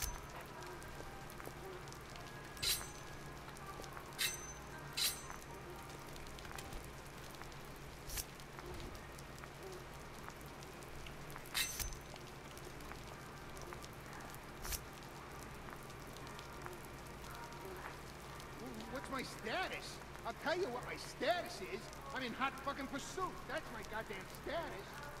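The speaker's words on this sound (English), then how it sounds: "This is the worst freezer ever if you just let rain fall into it." Rain pattering into an open freezer in the video game Hitman Absolution, soft continuous drops with sharp ticks, quiet and distant, thickening into denser splashes near the end, with someone talking over it.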